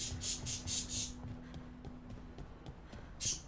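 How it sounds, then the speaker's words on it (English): A pet bird squawks from the background of a room, with a burst of four loud shrill calls at the start and one more near the end, over quiet clicks and a faint steady hum. "I don't know if you can hear the bird. She's squawking up a storm back there."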